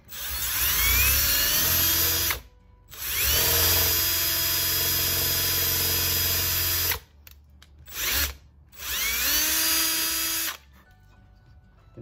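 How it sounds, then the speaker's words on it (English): A power drill bores through wood for an antler mount, whining loudly and steadily in three long runs separated by short pauses and a brief blip, close up with no talking. "All right, so I have it in the drill."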